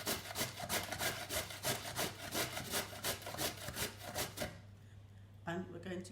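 Sweet potato is grated by hand against a kitchen grater in quick, rhythmic rasping strokes, a close scratchy scrape repeating about three times a second before trailing off into quieter handling noise.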